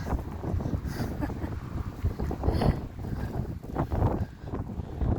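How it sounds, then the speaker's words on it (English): Steady wind gusts buffet the microphone along a shoreline path near the sea between Alness and Invergordon, a continuous low rushing roar that rises and falls in strength with no talk. "Oh man, it's breezy down this bit."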